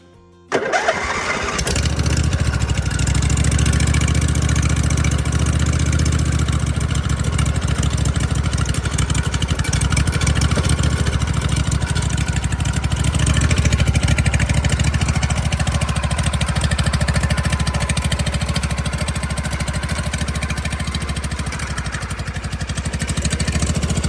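A Craftsman lawn mower engine cold-starts with a sudden catch, then settles into a loud, steady, close idle that runs on throughout.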